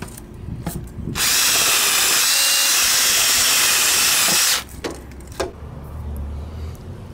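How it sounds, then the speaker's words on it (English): An electric drill fitted with a wire brush grinds paint off a scooter cover in one loud, harsh burst lasting about three and a half seconds. Quieter handling noises come before and after it. "Then continue grinding away."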